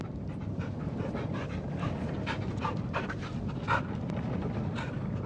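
Dog panting in the Blair Witch horror video game, rapid rhythmic close breaths repeating throughout with faint whimpers and ambient background, no speech.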